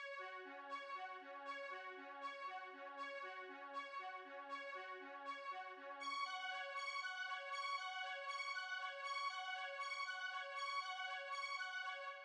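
A fast-paced, repetitive synth melody from a one-shot sample, arranged in FL Studio for a beat, bell-like notes ticking in quick even rhythm and thickening halfway through, heard alone without speech.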